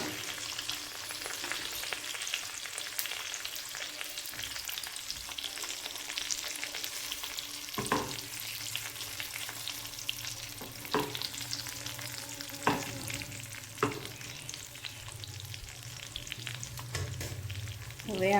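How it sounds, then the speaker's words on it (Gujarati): Malai (cream) heats in a pan and sizzles steadily while a spoon stirs it, with occasional scraping clicks against the metal and no voices. "મલાઈ ગરમ કરી લો."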